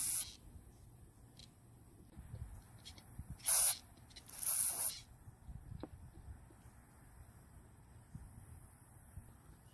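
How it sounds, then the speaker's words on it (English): Carb cleaner sprayed onto a Poulan Pro string trimmer carburetor comes in two short, hissing bursts about a second apart over a quiet room background. "We'll remove as much as we can before using carb cleaner."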